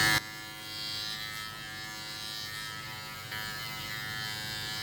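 Manscaped Lawn Mower 4.0 Pro electric trimmer buzzing steadily and close while trimming armpit hair, a continuous motor whine with slight shifts in pitch as it moves over the skin, preceded by a brief click at the start.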